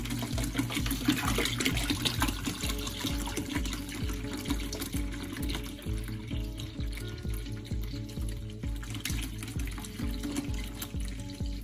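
Distilled water poured from a one-gallon container into a hydroponic growing setup, a continuous close trickling and splashing stream with gurgles, lasting several seconds without talk.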